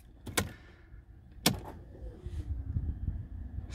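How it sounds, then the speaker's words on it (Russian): A Mercedes ignition is switched on inside the car: two sharp clicks a second apart, then a low electrical hum and whir building in the cabin, quiet and without speech. "включаем зажигание"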